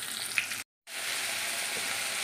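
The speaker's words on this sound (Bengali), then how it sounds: "তারপর দুটা আলু ছোটোটা দিয়ে কষাচ্ছি" Small potatoes sauté with spices in a pan, making a steady, close frying hiss that cuts out completely for a moment and then returns evenly.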